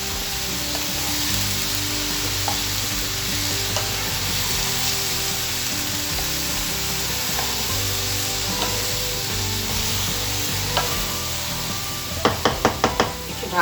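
Bottle gourd and fish head stir-fry in a pan, a steady close sizzle with soft scraping stirs, ending in a few sharp knocks of a utensil against the pan.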